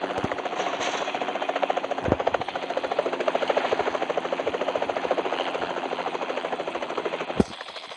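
A helicopter in the battle-royale video game PUBG drones with steady rotor chop and engine whine, loud and continuous throughout, with a couple of sharp thuds standing out.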